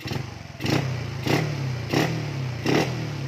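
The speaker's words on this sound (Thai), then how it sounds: "ลองดูคันเร่งก่อนนะครับผม" Motorcycle engine on a carbureted bike being tuned, revved by twisting the throttle in four sharp bursts over a steady idle, each rev rising and falling close by, with no talking.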